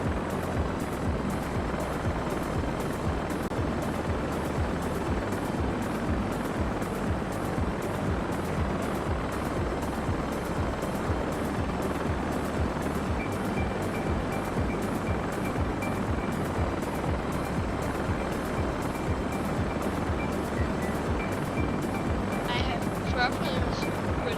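A Westland Scout helicopter flies in a flight simulator game, its rotor chop and engine drone forming a loud, continuous rhythmic thrum throughout, with a faint electronic tone entering near the end.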